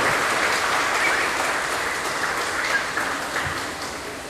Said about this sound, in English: Let's give him a hand and a big round of applause.